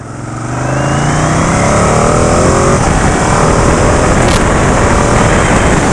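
A 2019 Ducati Panigale 959 sport motorcycle pulls hard under acceleration, its engine rising to a loud, sustained roar with quick-shifter gear changes, close and continuous with no voices.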